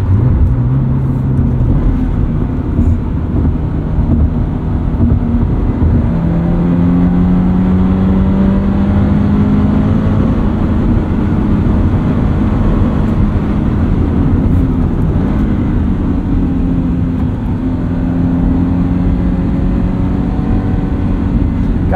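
A 2022 Subaru BRZ exhaust fitted with an aftermarket setup, revving at high revs from inside the cabin: a loud, steady droning engine tone rising and holding, with rolling road noise from all-terrain tires underneath, no talking.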